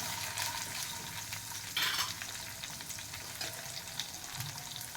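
Ingredients for batata poha fry steadily in a pan, a dense continuous sizzle with brief louder bursts as the mix is stirred, close and without talk.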